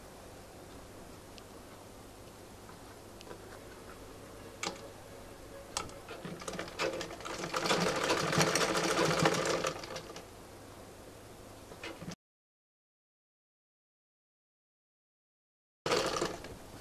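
Home sewing machine stitching the seams of a kolshi-design palazzo trouser, a steady mechanical whirr with light clicks that swells louder mid-way, then cuts out briefly before resuming.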